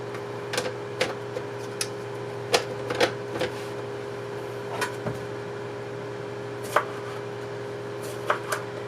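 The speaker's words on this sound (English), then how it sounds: "So we're going to thinly slice the cucumbers." A knife thinly slices cucumbers on a cutting board, sharp irregular taps spaced across the stretch over a steady appliance hum, close and fairly quiet.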